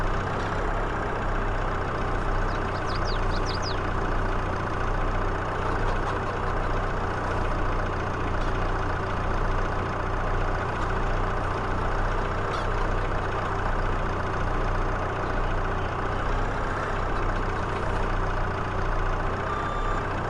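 A tractor engine in Farming Simulator 22 during a wheat harvest drones steadily, a continuous low rumble like a heavy engine idling that holds level throughout with no voices.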